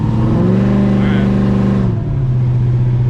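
A car accelerates hard with the throttle floored on a drive, its engine droning loud and close with a rising, steady roar that drops to a lower hum partway through.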